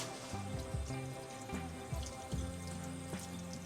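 Water runs from a tap in a steady stream, splashing and gurgling as pieces of meat are rinsed beneath it, fairly quiet and without speech.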